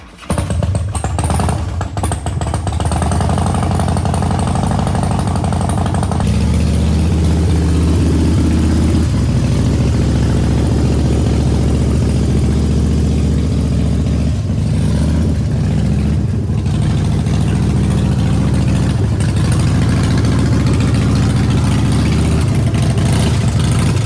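Rebuilt Harley-Davidson Big Twin engine on a Softail, freshly started and held at 1,000 to 1,500 RPM, a loud, steady, close-up rumbling drone with slight shifts in pitch and no talking.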